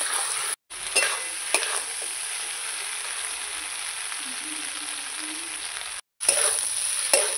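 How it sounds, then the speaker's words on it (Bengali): Spices sautéing for a pomfret fish curry with potato and tomato, a faint, even hiss of frying with a few sharp stirring scrapes, cut by two brief silent gaps. "ভালো করে কষিয়ে নেব।"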